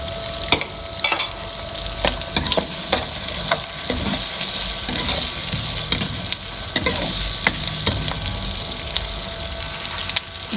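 Onions frying in a pan for keema aloo, sizzling steadily up close with frequent scraping clicks of a spoon stirring, no voices over the continuous crackle.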